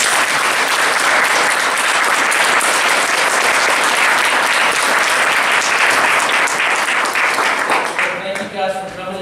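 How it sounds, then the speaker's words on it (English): A symposium audience applauds the panelists in loud, dense, sustained clapping that fills the room, tapering off near the end as a voice begins speaking over it. "Let's give all our panelists a round of applause."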